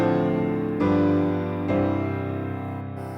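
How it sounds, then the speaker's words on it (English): A 2-5-1 chord progression is played as three sustained chords, each struck cleanly and left ringing, the last one decaying out with no talking. "2-5-1 sounds like this."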